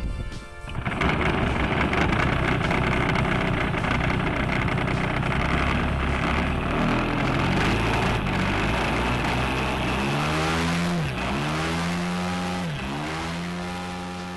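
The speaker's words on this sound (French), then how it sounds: "on allume le démarrage électronique du moteur, puis il suffit de le faire démarrer à la main" A small model airplane engine, electronically ignited and hand-started by a gloved hand, runs loud and steady with a dense high whine, then revs up and down in swelling sweeps near the end.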